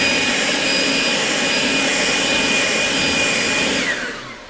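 A leaf blower blasts air over a freshly washed car to dry it, a loud, steady roar with a high whine that holds for about four seconds, then winds down at the end.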